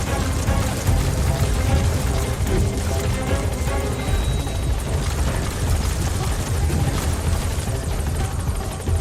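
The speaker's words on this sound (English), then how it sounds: "It'll bring down the chopper." Helicopter in the video game Metal Gear Solid V: The Phantom Pain, a steady, loud rotor and engine roar that holds for the whole stretch, with no voices over it.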